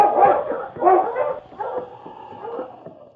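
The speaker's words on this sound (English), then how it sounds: "Then, barking, he started toward the trail they had just traveled." A husky sled dog barks and yelps in a rapid series of four or five loud, close barks with whining edges, heard alone on a snowy trail.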